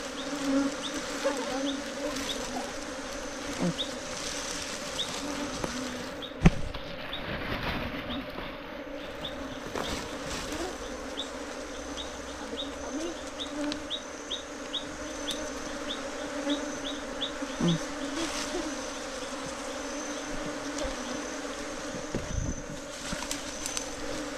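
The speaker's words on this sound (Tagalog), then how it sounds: "Kaya ang bubuyog oh" Continuous buzzing of many bees, steady and moderately loud, with occasional bumps and faint bird calls in the background.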